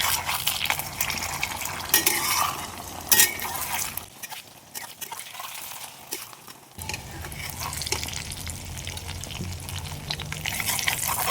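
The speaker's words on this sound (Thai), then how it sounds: "จากนั้นเราก็กลับไข่ไปมานะครับพอสุกนะครับทุกคน" A Thai omelette fries in hot oil and gets flipped, bringing bursts of bright sizzling and clinks of utensil against pan, with a quieter gap in the middle before the frying picks up again.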